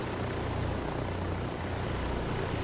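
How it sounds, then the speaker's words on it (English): A Douglas DC-3 piston engine idling at low RPM in Microsoft Flight Simulator 2020, a steady, dense propeller drone with a low throbbing beat, constant and even throughout, without talk. "the engine just doesn't sound healthy with such a low RPM"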